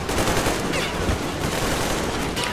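Rapid automatic gunfire from the video game Metro Exodus rattles continuously and loudly, dense overlapping bursts filling the whole stretch with no pauses.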